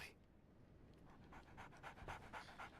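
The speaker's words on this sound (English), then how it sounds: "So, Barnes has a dog now." A dog pants rapidly in the video game Sherlock Holmes The Awakened, quick soft breathy huffs that grow busier and louder toward the end, heard alone against a quiet background.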